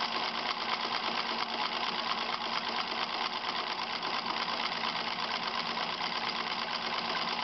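A sewing machine with an automatic buttonhole attachment runs steadily and loudly for the whole stretch, a continuous close whirring hum of stitching with no pauses and no talk.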